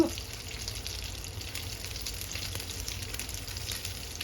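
Japanese gyoza dumplings frying in a little olive oil give off a steady, even hiss and crackle, close to the pan and unbroken, with no voices over it.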